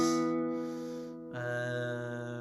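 Two clean guitar dyads in fifths in succession, the first ringing briefly before a second, lower-sounding pair of notes is struck and sustains.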